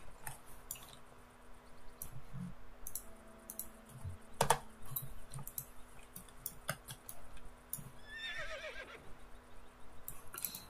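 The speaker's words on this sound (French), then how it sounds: "Je suis vraiment navrée pour les bruits de mon clavier et pour les bruits de ma souris." Steady clicking of a computer keyboard with occasional mouse clicks, close and fairly quiet, running continuously with no talking.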